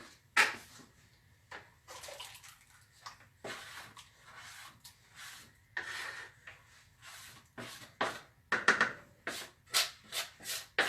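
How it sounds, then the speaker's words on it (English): Ceramic glaze mixed by hand in a bucket, a series of irregular wet rubbing and scraping strokes against the sides and bottom, close and fairly quiet with short pauses between strokes. "I really love mixing my own glaze."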